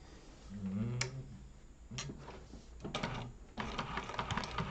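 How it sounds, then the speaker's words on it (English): A sewing machine backstitches a leather-style wallet, with short bursts of quick, rhythmic needle stitching separated by brief pauses. The sound is quiet and close, with no talking. "I always backstitch at my corners when I do these kind because it helps make sure my corners are nice and tight."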